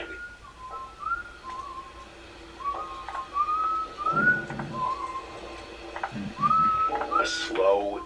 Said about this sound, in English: A slow, eerie tune carried through the trees surrounding his camp.